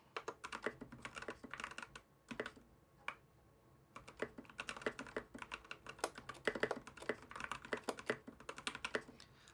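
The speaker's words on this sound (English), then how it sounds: "So if I type a little bit more here," Typing on a Gen 3 Freewrite keyboard: steady, close clacking keystrokes in quick irregular runs with short pauses, clear and alone in a quiet room.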